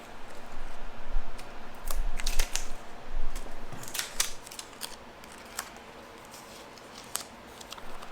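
Scissors cut apart heat transfer vinyl in a crafting setup, with a series of crisp snips and clicks that are busier at first and then sparse, with no talking.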